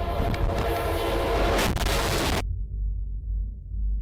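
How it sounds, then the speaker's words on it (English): A close train rolls past on the line with its horn blaring, a loud, dense roar of engine and wheels that cuts off abruptly partway through, leaving a dull low rumble. "Oh damn, that's a close train."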